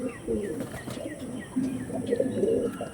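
Soft, low pigeon cooing repeats in short phrases, with faint higher chirps and a busy background hum.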